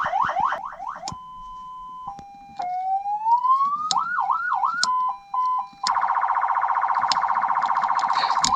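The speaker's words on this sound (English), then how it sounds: "under the hood, we can see that he is running a federal signal siren" A Federal Signal police siren mounted under the hood of a Chevy Impala cycles loudly through several tones: rapid yelps, a steady tone, a rising wail, then a fast warbling pulse, all close and clear.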